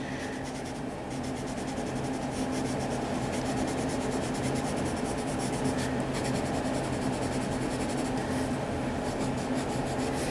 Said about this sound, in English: since I am using a heavier pressure with my pencil at this point